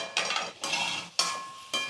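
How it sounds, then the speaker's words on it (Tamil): A spoon scrapes and stirs potatoes through thick masala in a pan in four separate bursts, close up, with no talking. "உருளைக்கிழங்கு சேர்த்துட்டு நல்லா கலந்து விட்டுட்டு"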